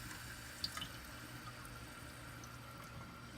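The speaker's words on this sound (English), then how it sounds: "Little valve here lets water switch between either going to the reverse osmosis system or to the sink" Water runs steadily from a small diverter valve into a sink, a soft continuous rushing stream at moderate distance with a faint splash near the start and no talk.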